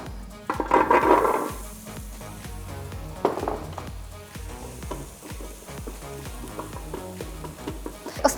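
Tofu and chickpeas are stirred together with a spoonful of oil in a bowl, then dropped into an air fryer basket, giving close clatter, scraping and rustling with a few sharp knocks of utensils against the dish.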